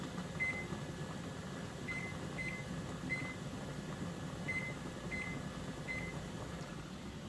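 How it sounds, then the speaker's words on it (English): Six short electronic timer beeps sound at intervals as a kitchen timer is set during home canning of rhubarb butter, faint over a steady hum of room noise. "Set the timer for 15 minutes."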